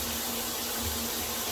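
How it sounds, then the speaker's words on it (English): Water runs steadily from a 10-inch rain shower head in a home bathroom, a dense, continuous hiss of spray falling close by with no pauses. "Shower works just fine."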